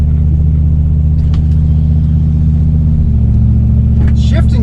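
A drag racing car sits loud and close at Speed World Orlando, its heavy engine rumble holding steady, then dropping in pitch around the three-second mark as it comes off the stall, with no talk over it.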